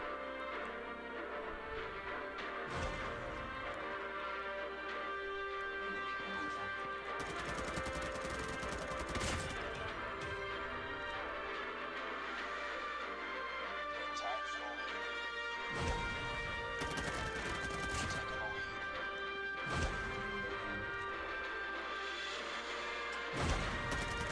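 M4 rifle gunfire in Call of Duty Mobile multiplayer comes in several loud bursts of rapid shots, separated by gaps and set against a continuous bed of in-game sound.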